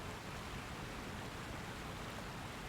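A waterfall in the Elden Ring video game, a constant broadband rush of falling water, steady and unbroken at moderate level with no other sounds over it.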